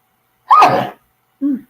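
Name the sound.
sneeze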